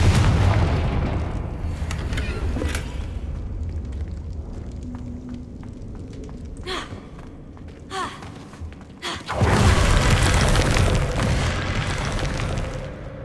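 A Confringo blasting spell goes off in Hogwarts Legacy, a loud broadband explosion that bursts in and then roars on for several seconds, with a smaller blast earlier and rumbling debris throughout.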